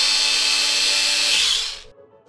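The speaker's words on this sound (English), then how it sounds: "Now you're gonna wanna unscrew the main body screws here." A power screwdriver whirs at high pitch, backing out the main body screws of an Xbox One X console, steady and close for under two seconds before cutting off abruptly.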